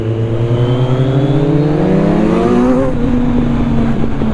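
A Kawasaki Z900 superbike fitted with a Scorpion exhaust revs loud and close, its engine note climbing steadily in pitch, then settling into a steady high drone.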